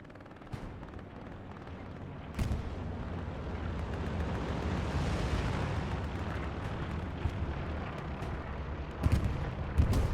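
Artillery shells burst in a Second World War video game battle at Sainte-Marie-du-Mont, a low rumbling barrage with sharp booms at the start and near the end, fairly quiet and distant.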